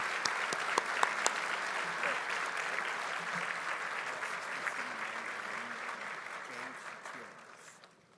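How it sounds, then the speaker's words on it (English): An audience at a State of the City event in Irving applauds city leaders, a sustained dense wash of clapping with a few sharper claps near the start, gradually dying away at the end. "Please join me in applauding these"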